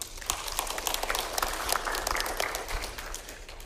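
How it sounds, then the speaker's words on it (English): Church congregation clapping together in the sanctuary during a service, a dense, steady wash of many hands lasting a few seconds at moderate loudness, with no voices over it. "We can clap about that."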